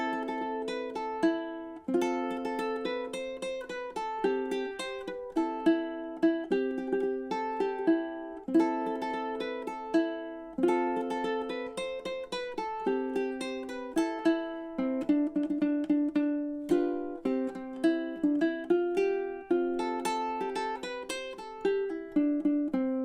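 Ukulele chord melody arrangement of Whiskey in the Jar, plucked chords and melody notes ringing steadily and close for the whole stretch, no voices.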